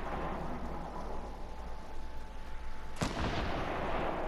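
A single sharp gunshot cracks out in Fortnite Battle Royale, fairly close and loud, breaking through a steady bed of wind-like game ambience and followed by a brief rumbling tail.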